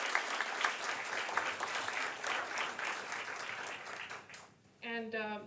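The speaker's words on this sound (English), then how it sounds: "I'd like to give her another round of applause" An audience at a town hall meeting claps steadily, a dense patter of many hands filling the room, fading out as a person begins speaking.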